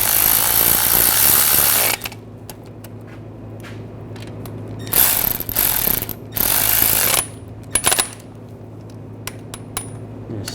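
Ratchet snugging down bolts on the rear wheel bearing of a 2007-2013 BMW X5, giving fast, loud clicking runs in several bursts with pauses between, close by.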